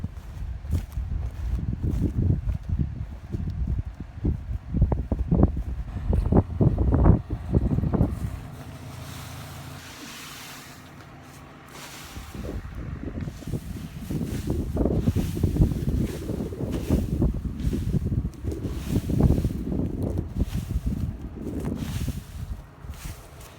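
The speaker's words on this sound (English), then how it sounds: "That wind just picked up a little bit ago." Strong wind gusts across an open field while sorghum is being round baled, heavy rumbling buffets on the microphone that rise, ease off briefly in the middle, then return in force.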